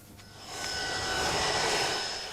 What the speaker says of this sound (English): A private plane brought Michael Kennedy's body back to Massachusetts.